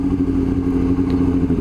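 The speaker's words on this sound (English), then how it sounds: "this exhaust is really, really loud" Yamaha R6 Raven Edition motorcycle with a loud exhaust, a steady close engine drone holding a constant pitch throughout, with no talking.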